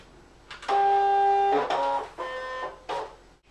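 A ScanNCut cutting machine draws in its mat with a steady motor whine that changes pitch in short stages, then stops, close and fairly quiet with no talk.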